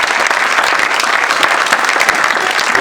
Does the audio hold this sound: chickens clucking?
no